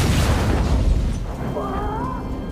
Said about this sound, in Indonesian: pos yang dijaganya diserang bom oleh musuh